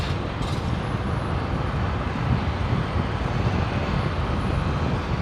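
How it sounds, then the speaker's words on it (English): A Royal Flying Doctor Service Beechcraft King Air taxis toward runway 19 right at Brisbane Airport, a steady, broad engine roar holding at an even level throughout without breaks. "Royal Flying Doctor Service heading over to 19 right for departure"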